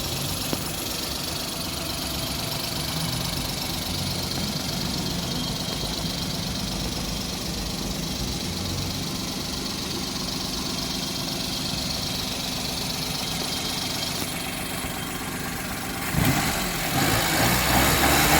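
A Maruti Alto 800 car engine idles steadily, a close, even mechanical hum with a faint knocking rhythm, alone until a brief louder rustle near the end.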